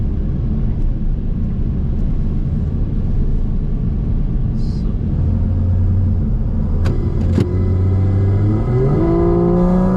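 A Porsche Cayman GT4 RS pulls away from a standstill, a steady close engine drone and cabin rumble that climbs in pitch as it accelerates toward the end, with no talk.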